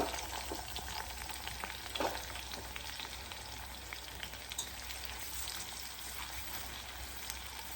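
Sliced bitter gourd fries in a pan with a soft, continuous sizzle and crackle, fairly quiet and close, with occasional light stirring and no voices.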